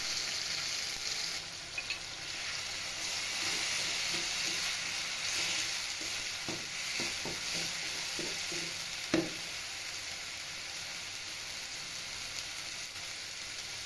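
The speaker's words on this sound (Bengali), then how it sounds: "মেথি, রসুন এবং পেঁয়াজ একটু ভেজে তার মধ্যে বেটে রাখা ধনেপাতা ঢেলে দিচ্ছি।" Fenugreek seeds, garlic and onion fry in hot oil for coriander leaf chutney, with ground coriander leaves added partway through. A steady close sizzle runs throughout, broken by a few sharp clinks and stirring scrapes.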